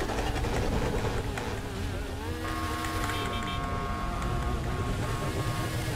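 A car engine in GTA 5 revs during an online race, with a buzzing, whining tone that climbs and holds steady over a layered game soundtrack, loud and continuous throughout.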